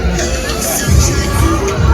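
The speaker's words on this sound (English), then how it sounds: "First little glance of the crowds before we enter." Crowd chatter near the Sesame Place theme park entrance on an overcast Easter morning, a loud, steady babble of many voices close by, with one nearer speaker talking within it.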